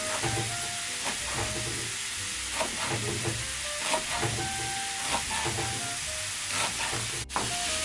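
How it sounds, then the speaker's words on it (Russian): Chopped onion and carrot sizzle and crackle steadily in a hot pan, with occasional stirring scrapes and no talking. "пока жарится наш лучок с морковкой"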